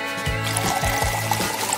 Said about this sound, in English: Then I brew it in French press